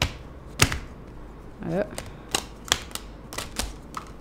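Tarot cards shuffled by hand, giving a run of sharp, irregular flicks and snaps, near and fairly loud, with a brief voice heard once in between.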